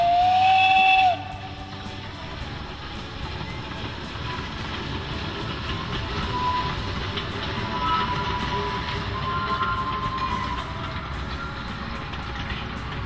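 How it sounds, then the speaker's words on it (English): Steam whistle of a 760mm narrow gauge forest railway train on the Čierny Hron line in Slovakia, one loud blast for about a second, then the steady rumble and hiss of the train running close by. "Welcome to the Čiernohorská Forest Railway."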